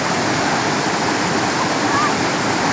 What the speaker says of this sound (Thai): มองน้ำตกไปใช่ไหม